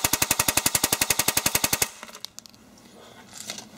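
Ares Amoeba Honey Badger AEG airsoft rifle firing a fully automatic burst of about twenty rapid, evenly spaced shots running a 7.2 V LiPo battery, loud and close, then stopping abruptly into quiet room noise.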